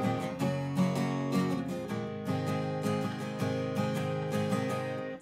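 Acoustic guitar strummed in a down, down, up, up, down, up pattern, one measure per chord, for the chorus of a song, steady rhythmic strokes played alone.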